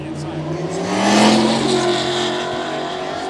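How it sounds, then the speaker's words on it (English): A Ford Mustang drag race car with its parachute intact roars down the strip at a South Georgia drag racing event, a loud rising engine note that swells and then holds under an announcer's commentary. "the Mustang making all the noise with the parachute intact"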